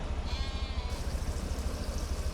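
A sheep or goat on a farm gives one short bleat early on, fairly faint over a low steady background hum.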